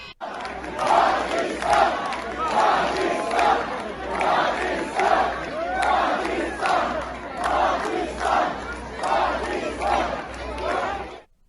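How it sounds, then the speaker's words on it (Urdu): Large crowd in Azerbaijan rhythmically chanting "Pakistan, Pakistan" in repeated loud two-beat bursts, a dozen or so cycles in a row, roaring and spirited. "اس میں کراؤڈ جو ہے وہ بہت شور کے ساتھ، بہت ولولے کے ساتھ، بہت جذبے کے ساتھ پاکستان پاکستان کے نعرے لگا رہا ہے"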